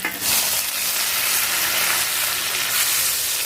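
Fish from a local catch fries in hot oil in a pan, giving a loud, steady, dense sizzle with bubbling crackle throughout and no talk.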